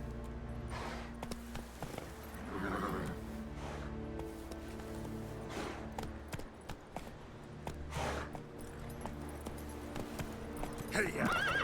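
Geralt's horse Roach in The Witcher 3: Wild Hunt, with steady hoof clip-clops, snorts and repeated whinnies near a camp, close and moderately loud, with game music underneath.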